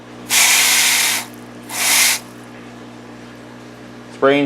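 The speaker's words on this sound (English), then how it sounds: "I use the mist setting on my garden hose here" Two hissing bursts of fine water spray from a garden hose on its mist setting, sprayed into a bowl, the first about a second long, the second shorter, over a low steady hum.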